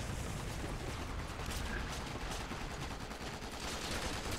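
Continuous video-game gunfire from Resident Evil 6 Mercenaries, a dense unbroken barrage of rapid shots and blasts holding steady and loud for the whole stretch, with no voices over it.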